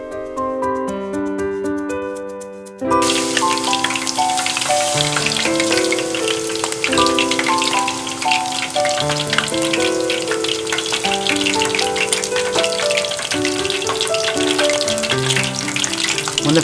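Prawns and vegetables for tempura deep fry in hot oil with a steady, crackling sizzle that bursts in after a short musical intro and continues loud and dense under light background music.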